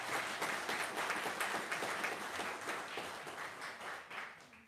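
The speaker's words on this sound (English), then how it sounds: "Please give them a round of applause for all their accomplishments." An audience at a physician assistant program graduation claps steadily, a dense, even roar of applause that slowly tapers toward the end.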